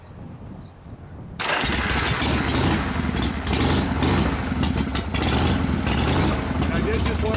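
A 1980 Harley-Davidson FXE motorcycle, a matching-numbers bike, fires up after quiet ambience, its engine catching abruptly and settling into a loud, close, rumbling idle that carries on steadily.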